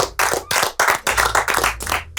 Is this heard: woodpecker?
no